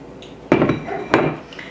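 Metal baking pans for gluten-free zucchini bread clank against a kitchen counter in two sharp, close knocks, each ringing briefly, with quiet moments before and between.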